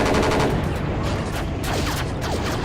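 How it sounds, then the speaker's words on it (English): An enemy Bosniak tank firing on the player's M84 tank in the Battlefield Yugoslavia game, heard as dense, continuous rapid gunfire and loud rattling bursts throughout. "there's a Bosniak tank that's shooting at me"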